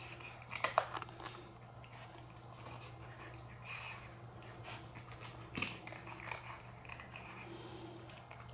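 A dog quietly chewing and crunching a chew treat close up, with a few sharper bites early and again midway over a faint steady hum.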